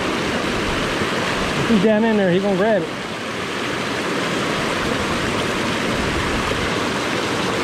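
Strong river current rushing at a trout stream, a loud continuous broadband wash close by, with someone briefly talking over it early on.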